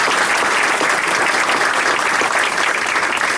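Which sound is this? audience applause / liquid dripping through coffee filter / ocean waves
audience applause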